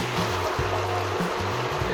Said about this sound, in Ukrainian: Додаємо помідори у власному соці.